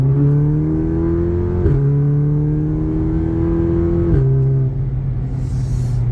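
Volkswagen Golf 7 R accelerating hard on a road test after an injector seal replacement, a loud engine drone rising through the gears with clear shift breaks, heard from inside the car.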